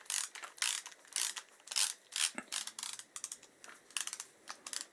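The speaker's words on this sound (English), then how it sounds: "let's get that centre bolt out and the oil pump" A hand ratchet clicks in quick irregular bursts while removing the centre bolt from Kawasaki KZ1000J engine cases, close and fairly quiet, with no talk.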